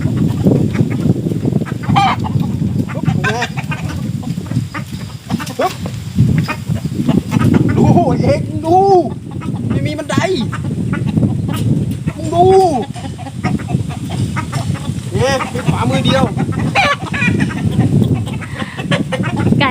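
Startled chickens cluck and squawk close by in a continuous, busy stream of calls, with several sharper, rising cries standing out over a steady outdoor background.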